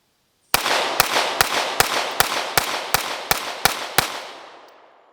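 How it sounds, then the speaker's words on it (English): Staccato C 4-inch pistol with factory recoil spring and Tampa Gun Works ported barrel fired at an outdoor range, ten sharp close shots at a fast, even pace, each ringing out with a decaying echo, no talk. "Let's see how it runs."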